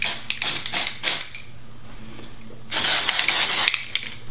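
Temporary red and orange hair color spray hissing from an aerosol can in short bursts at first, then one long steady spray, close and loud, with no talking.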